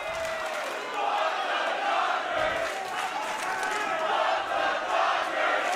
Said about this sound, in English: Crowd in a fervor and getting under the skin perhaps of Los Suavecitos